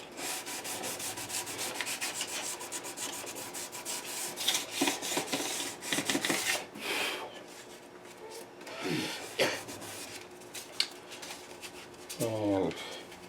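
Fine-grit sandpaper, 400 then 600 grit, rubs a fret on a classical guitar being re-fretted, giving soft, rapid, uneven scratchy strokes at close range, with a few louder scrapes and a short tonal squeak near the end.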